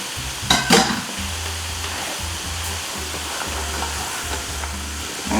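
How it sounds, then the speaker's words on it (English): Carrots and squash being stirred with butter in a pot for a vegetable soup: a steady sizzling hiss with repeated low scraping strokes as the spoon works through the vegetables, and a brief louder clatter near the start. "Now it says to stir to coat with butter, and obviously with a pot."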